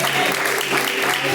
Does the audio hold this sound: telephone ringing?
no